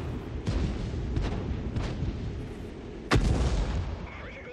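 Tank artillery gun in World of Tanks firing several muffled booms, with the loudest blast near the end standing over a low rumbling background.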